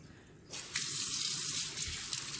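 Cold tap water runs steadily and loudly from a faucet over pork pernil in a kitchen sink, starting abruptly and continuing as a constant splashing rush.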